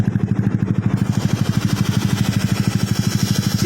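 A motorcycle fitted with a sporty power pipe exhaust idles steadily, its close, loud, even low-pitched pulses thumping in a fast regular rhythm for the whole stretch.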